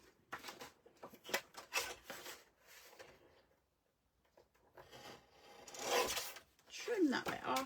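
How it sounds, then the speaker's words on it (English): Hand cutting and trimming material with short rasping snips and rubbing strokes at close range, quiet and irregular, with pauses and a brief whirring scrape near the end. "Trim that bit off, spin it round, and cut that bit off."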